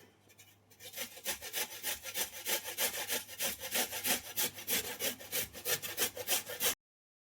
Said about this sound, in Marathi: मी आता मी गाजर किसून घेते